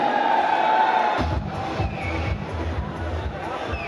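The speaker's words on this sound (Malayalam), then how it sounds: "നല്ലൊരു കൈയടി, നല്ലൊരു കൈയടി." An audience at the Bad Boyz movie audio launch in Kozhikode's Hilite Mall bursts into loud applause and cheering that fades after about a second, as a crowd murmur and voices carry on over the hall.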